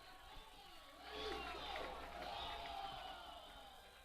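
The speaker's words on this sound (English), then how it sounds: "So, crowd getting into that one there a little bit." A baseball crowd at a Busters game against the Casper Horse Heads cheers after an RBI single. The cheer is a faint, distant swell of voices that rises and then settles, with commentary talk underneath.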